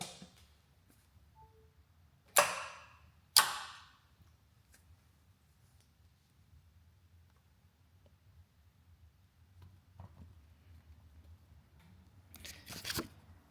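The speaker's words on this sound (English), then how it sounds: "You'll hear the contactors click." Contactors in a 1973 Ford F100 with a Tesla motor swap snap shut with two sharp, close clicks a second apart, followed by quiet and a few faint ticks and a softer clack later on.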